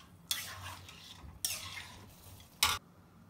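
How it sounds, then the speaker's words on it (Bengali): Pasta is put on to boil in a pot, heard as three short, separate bursts of metallic scraping and clinking, close and fairly quiet, with near silence between them. "পাস্তা সিদ্ধ বসাই দিলাম,"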